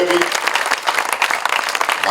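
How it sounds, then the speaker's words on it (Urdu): Dense, steady applause from a crowd at a political party workers' gathering, loud and close throughout with no pause. "ان کے لیے تالیاں زیادہ ہونی چاہیے"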